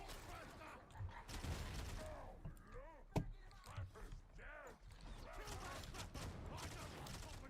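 Burst-fire rifle shots ring out amid chaotic combat in Warhammer 40K Darktide, with a sharp crack standing out over dense background gunfire and game effects while someone talks excitedly throughout.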